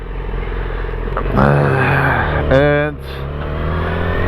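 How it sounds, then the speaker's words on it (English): A 2006 Yamaha motorcycle being ridden, its engine droning steadily with a couple of rising revs. A voice talks over the engine. "We're on top of a Yamaha 2006 moto."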